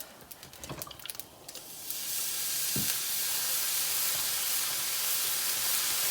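Soy sauce hits fried rice in a hot pan: after a few light scraping taps, a loud, sustained sizzle bursts up and keeps hissing steadily, with one stir knocking through partway.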